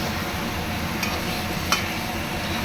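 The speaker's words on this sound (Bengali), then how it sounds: "মাটনটা একটু কষিয়ে নেব" Mutton being sautéed with spices in a pan, in Bengali kosha style: a steady close sizzle and frying hiss with faint scraping stirs as the meat is turned, no voices.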